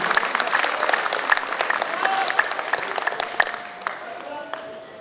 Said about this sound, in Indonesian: kita berikan aplaus atas terselenggaranya acara akbar pada hari ini